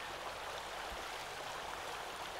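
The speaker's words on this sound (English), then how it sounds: "listen to the music of the river" A river flows at a scenic spot, a steady broadband wash of moving water that stays even and continuous throughout, with no talk.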